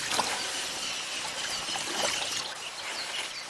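Young elephant calves bathing in water, with steady splashing and trickling across the whole stretch at moderate, close range and a few faint bird calls in the background.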